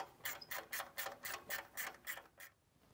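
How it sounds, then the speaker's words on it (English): A ratchet clicks in quick repeated bursts, about nine strokes in a steady rhythm, while tightening the EGR cooler to up-pipe clamp on a 6.0 diesel engine, close and fairly quiet, then stops. "Then finish tightening the EGR cooler to up-pipe clamp."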